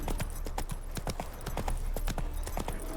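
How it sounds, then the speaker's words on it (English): Horse hooves clip-clopping in The Witcher 3, a steady rhythmic series of sharp close hoof strikes at a walking gait over a low ambient bed. "Bloody fine mount."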